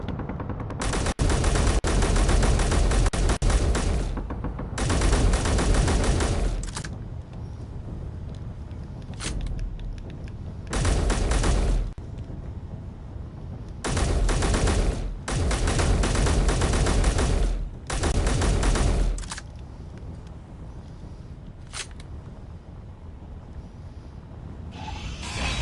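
Heavy bursts of automatic gunfire from pirate attackers in the space survival game Helios Underground, loud sustained volleys lasting one to three seconds, repeating with short pauses between them.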